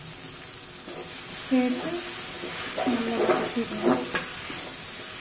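Grated coconut and coriander powder sautéing in a pan, a steady soft sizzle and hiss with a few stirring scrapes, under a voice speaking briefly.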